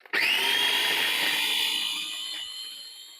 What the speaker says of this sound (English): now I'm going to blend